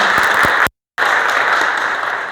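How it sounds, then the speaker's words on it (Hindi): Loud, dense applause from an audience at a workplace safety day program, steady and continuous with a brief cut of silence partway through, no talking over it. "तो माँ के लिए एक बार जोरदार तालियां अपनी अपनी माँ के लिए।"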